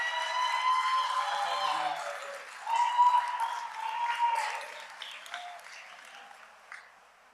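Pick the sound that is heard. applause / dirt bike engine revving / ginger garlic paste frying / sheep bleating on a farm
applause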